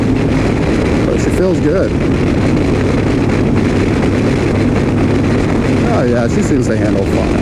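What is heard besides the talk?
2015 Harley Davidson Street Glide motorcycle riding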